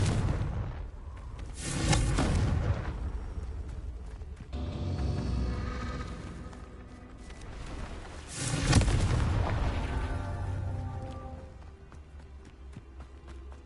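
Confringo blasting spells explode in Hogwarts Legacy, two loud broad booms about seven seconds apart, each rolling into a decaying rumble, with softer spell effects and ambient game sound between them.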